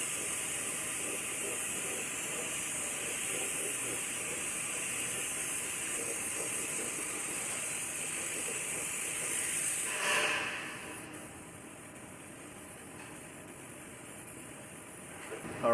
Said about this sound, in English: I'm going to coat all of this with a coat of epoxy primer.